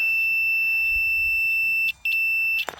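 A multimeter gives a steady, high continuity beep while testing the vaporiser on a Ford Transit Connect. The tone cuts out briefly, resumes and then ends with a clatter of the probes.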